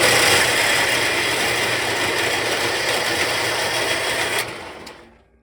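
A saw blade cutting a clamped metal rod, a steady, loud mechanical buzzing and rattling drone that runs continuously and then winds down and stops near the end.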